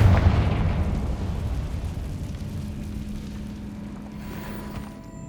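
A Confringo spell explosion in the Hogwarts Legacy video game bursts with a loud boom, then a long rumbling decay that fades over several seconds inside a cavernous room.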